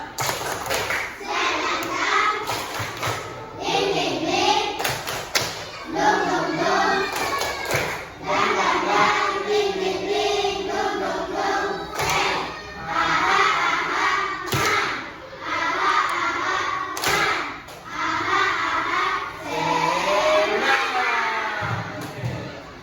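Children clapping together in a classroom "tepuk semangat" spirit clap, a long run of rhythmic group claps and thumps in repeating patterns, mixed with chanting voices and occasional pauses between rounds.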